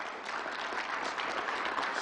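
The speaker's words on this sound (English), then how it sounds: "Charlie King, let's give him a big round of applause." A crowd at a New York governor's COVID press event claps in a continuous, fairly loud burst, many hands blending into an even roar of applause with no talking on top.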